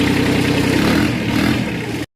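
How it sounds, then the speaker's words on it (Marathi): A tractor engine revs loudly and steadily for about two seconds at close range, a rough mid-pitched drone with a clattering edge, then cuts off abruptly. "सकाळी लवकर आवरून काय ट्रॅक्टर घेतला बघा."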